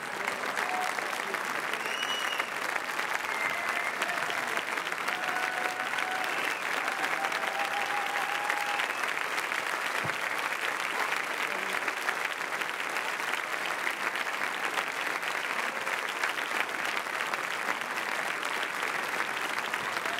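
At Cannes, the audience in the Grand Théâtre Lumière applauds as the Dheepan film team enters, a long, steady, moderately distant roar of clapping with faint voices woven through.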